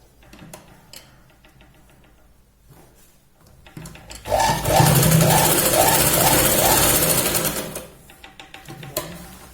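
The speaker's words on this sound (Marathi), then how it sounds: "शोल्डरला आपल्याला 2 ते 3 वेळा इथे शिलाई लावून घ्यायची" A sewing machine runs in one steady burst of stitching along the shoulder seam of a Punjabi top, close and loud, framed by quieter handling and fabric rustle before and after.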